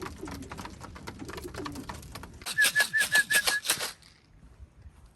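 Racing pigeons arriving home after a long race, with soft cooing and wing flaps, then a loud burst of rapid wing clapping and fluttering close by that fades into quiet.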